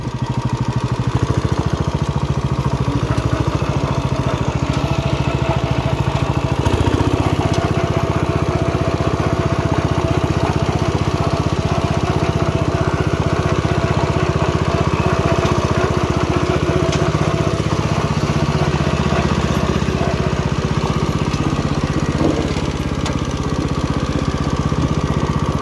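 A 1970 John Deere 110 garden tractor runs steadily, its small engine holding a loud, constant drone close by with a rough, buzzing vibration throughout.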